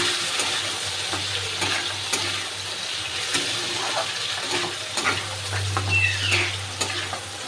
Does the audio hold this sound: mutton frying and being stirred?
yes